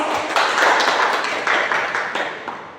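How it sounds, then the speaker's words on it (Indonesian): Students in a classroom applauding a presenting group, a loud, close burst of many hands clapping in quick, even rhythm that gradually thins out over a few seconds. "Berikan aplaus kepada kelompok 1."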